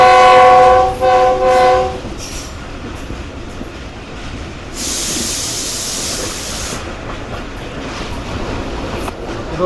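Packed passenger railcar running on rails through hilly tunnel country, opening with a loud, repeated horn blast before settling into a steady rumbling clatter of wheels, with a brief hissing rush partway through.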